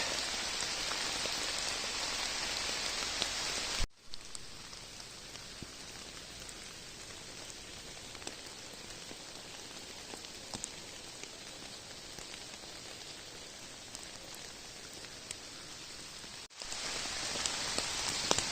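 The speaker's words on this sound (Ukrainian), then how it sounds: "А дощик сипить." Steady light rain patters close by without pause in the Carpathian mountains, a soft continuous hiss with a brief drop in sound partway through.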